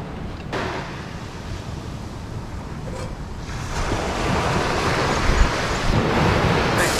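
Wind gusts buffet the microphone at a sunny, nearly empty beach, with surf washing in steadily and the rush growing louder toward the end.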